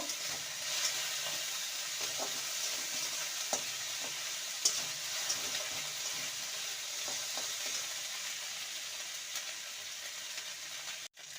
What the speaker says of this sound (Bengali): আদা রসুন দিয়ে ভালো করে কষিয়ে নেব